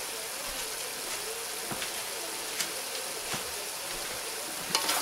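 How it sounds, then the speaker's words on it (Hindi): Vegetable sabzi of cauliflower and potato, seasoned with garam masala, is gently stirred in a pan, giving a steady soft sizzle with faint scraping ticks throughout. "इसको अब मैं हल्का सा हिला लूँगी"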